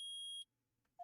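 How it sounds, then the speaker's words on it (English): A metal detector in the Phoenix Wright: Ace Attorney video game gives one loud, sustained electronic beep lasting under half a second, then drops away, with a brief faint tone following. "It's beeping. The metal detector's found something."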